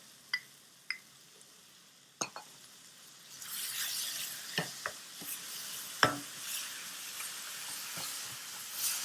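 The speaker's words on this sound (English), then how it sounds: "I'm going to go ahead and add my yogurt little by little." Yogurt spooned into sizzling spiced mixed vegetables for a sabzi sets off a soft, quiet sizzle, broken by sharp clinks of a spoon against the pan as it is stirred in.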